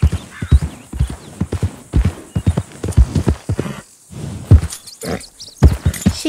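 Horse hooves clip-clop in a cantering rhythm in Red Dead Redemption 2, steady beats close by with a brief whinny, the gait quickening then pausing before resuming.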